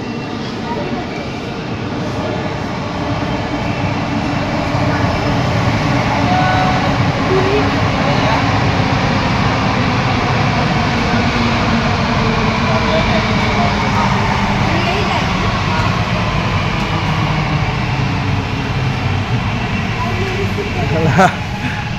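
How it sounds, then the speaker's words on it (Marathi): A Mumbai Aqua Line metro train pulls into an underground platform with a steady loud rumble and whine that stays constant throughout, while people chat nearby. "बघा मेट्रो आली बघा."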